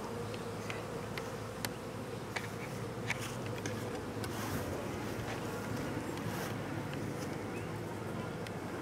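Honey bees buzz steadily around an open hive during an inspection, a dense continuous drone close to the microphone with brief faint clicks and handling noises scattered through it.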